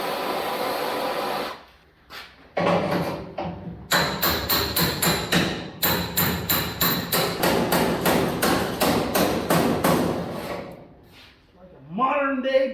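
Hammer straightening bent metal on a 1950 Mercury rat rod tailgate, a run of about twenty sharp, ringing metallic blows in a fast, steady rhythm, loud and close, preceded by a few scattered strikes and surrounded by a background whirring.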